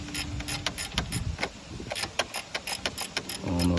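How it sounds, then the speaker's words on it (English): Wrench ratcheting and cranking a loosened alternator bolt on a Dodge Charger during an alternator replacement, a run of close, sharp metallic clicks and clanks in an uneven rhythm, with a louder mechanical rattle at the end. "you can get some good cranks if you put pressure on the bolt"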